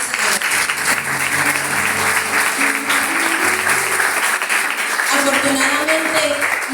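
A church congregation bursts into loud, sustained applause, dense clapping throughout, with a preacher's voice and crowd sounds over it.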